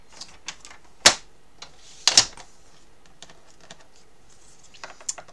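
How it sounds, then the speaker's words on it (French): Paper strips 2 cm wide being cut for a scrapbook album page: sparse small ticks and clicks, with two sharper snaps of a cutter or trimmer blade close by and a few light taps at the end, no talking. "Je reprends des bandes de 2 cm que je vais couper sur"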